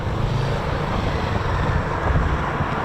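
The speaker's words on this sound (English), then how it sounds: "sounds like a Griffin engine" Rolls-Royce Griffon piston aircraft engine from a Battle of Britain Memorial Flight aircraft running on the ground at RAF Coningsby, a steady distant drone mixed with wind noise and no clear voices.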